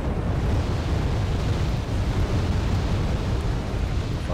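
A deep, continuous artillery roar from the Wargame Red Dragon battlefield rumbles loud and steady for several seconds. The low-heavy blast noise shows no gaps and no talking.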